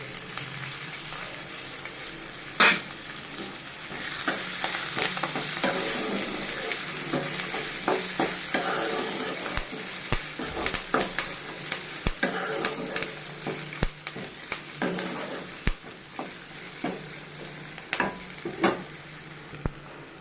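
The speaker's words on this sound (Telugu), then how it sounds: "ఇప్పుడు మనం ఫ్రై చేసి పెట్టుకున్న బెండకాయని యాడ్ చేసుకుందాం." Fried okra stirred into rice in a hot pan with curry leaves, a steady sizzle of frying running throughout, broken by sharp scrapes and clicks of a spoon against the pan at irregular intervals, close and fairly loud, with no talking.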